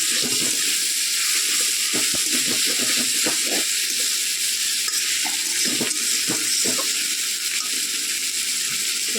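Onions fry in a pan on a home stove with a loud, continuous hissing sizzle, broken by irregular soft knocks and scrapes as they are stirred.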